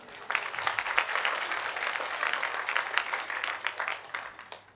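A church congregation breaks into applause, a steady wash of many hands clapping that rises quickly, holds for several seconds and tapers off at the end.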